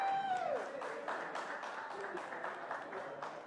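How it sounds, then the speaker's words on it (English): Audience applause at an interview event in an art gallery, a steady wash of clapping from a modest crowd at moderate level, following a brief tail of speech at the start. "Give her a round of applause for that."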